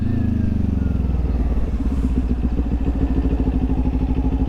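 A motorcycle engine runs loud and close, its low throbbing note shifting into a rapid, uneven burble as it slows under engine braking.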